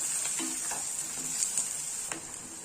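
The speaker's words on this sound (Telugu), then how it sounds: "ఇదిగోండి ఆనియన్స్ వేగుతున్నాయి కదా" Onions fry with green chillies and curry leaves for an egg and drumstick curry, a steady hiss with faint scraping clicks of stirring, close and unbroken, no talk.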